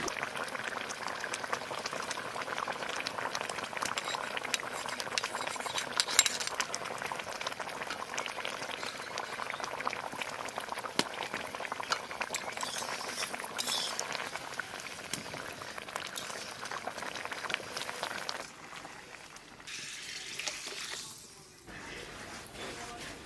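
Salmon fish curry simmering in a pot, giving a steady bubbling, boiling texture close up that continues for most of the stretch before thinning and dropping near the end, with a faint voice in the background.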